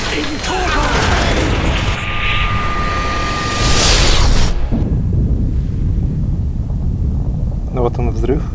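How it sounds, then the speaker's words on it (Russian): An explosion from Castlevania: Lords of Shadow 2, a loud roaring blast with rushing debris and wind-like noise that cuts off abruptly, followed by a low rumbling aftermath. "Ну вот он, взрыв, который мы видели в самом начале"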